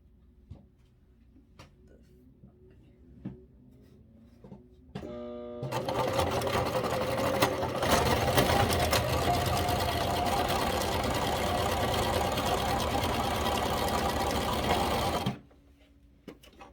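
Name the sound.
sewing machine stitching kitchen towel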